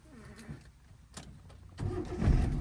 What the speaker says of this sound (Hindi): अब आपको कार को स्टार्ट करना है। इंजन ऑन करो।